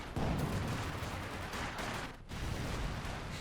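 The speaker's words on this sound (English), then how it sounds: "Molotov cocktail being thrown. Fire. Mortar. Oh, God, the explosions." Mortar explosions and gunfire from the Company of Heroes 2 strategy game, a continuous dense rumble of blasts and shots at moderate distance with a brief lull near the end, no voices.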